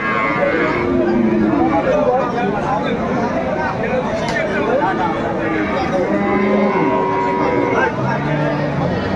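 Dairy cows moo repeatedly at a cattle market in Dinajpur, Bangladesh, low drawn-out calls rising from a busy crowd with people chattering nearby.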